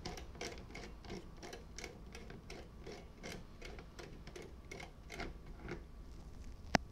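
Riv nut tool slowly crushing a rivet nut while mounting a wickerbill spoiler on a Dodge Charger SRT Hellcat, a quiet, steady run of rapid mechanical clicks and ratcheting ticks, fairly close, ending in one sharp snap.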